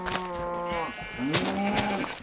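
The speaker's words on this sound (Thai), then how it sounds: "ไอ้แกะ" Minecraft sheep bleating, a couple of wavering, nasal bleats in close succession from the video game, loud and clear with no talking over them.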